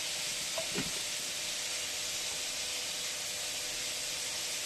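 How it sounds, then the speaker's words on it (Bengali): Oil sizzling in a kadai after fried fish has been lifted out, a steady broadband hiss that stays even and continuous throughout, with a faint brief clatter near the start and no talking. "কড়াতে দেখুন বন্ধুরা অল্প তেল আছে, আর একটু তেল আমি দিয়ে দেবো।"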